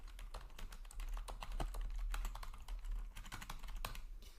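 Rapid, continuous typing on a computer keyboard, dense keystrokes clattering close by with no pauses, heard alone without talk.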